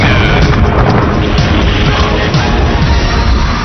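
A huge Big Bang explosion sound effect: a loud, dense, continuous booming roar with deep rumbling and crashing texture that fills the whole passage without letup.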